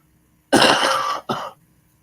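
Two harsh, wet chest-congestion coughs close to the microphone, a longer one followed by a short second, then quiet.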